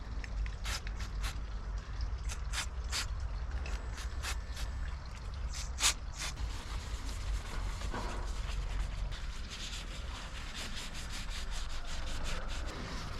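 Brake cleaner and kitchen roll wiping grime off a bicycle disc brake, heard as steady close rubbing and scrubbing with short sharp spray-like bursts, over a low background rumble, with no talking.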